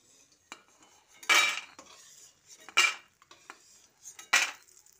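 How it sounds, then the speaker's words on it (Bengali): A metal spoon scrapes and clinks against a frying pan while lifting fried lentil dumplings out of the oil, giving three distinct scraping strikes with faint clatter between them. "এবার বড়িগুলোকে তুলে নিচ্ছি"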